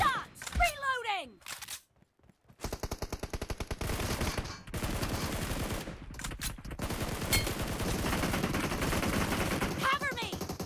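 Gunfire in the PUBG Mobile video game: close, loud rapid bursts of automatic fire in a steady stutter, with brief lulls, over a busy game soundscape with some speech.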